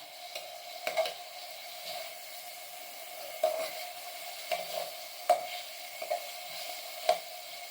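Oil sizzles softly as chicken fries in a pan, with occasional sharp ticks and taps from stirring scattered through the steady hiss.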